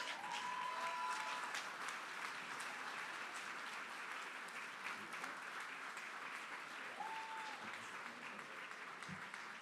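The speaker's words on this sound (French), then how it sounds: "Nos gagnants cette année, on les applaudit, ce sont Steve et Geneviève Gouin." An audience applauds award winners at an awards event, steady full clapping throughout, fairly distant and even in level, with a couple of faint whistles rising over the crowd.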